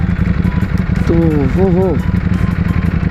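A Ducati Panigale V4 superbike being ridden on a road gives a steady low engine drone throughout, heard under someone talking close to the microphone.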